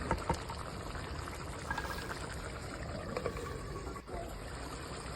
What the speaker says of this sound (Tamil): குழம்பு நல்லா கொதிஞ்சு வருது இந்த ஸ்டேஜில் கூடவே புளி கரைசல் சேர்த்துக்கோங்க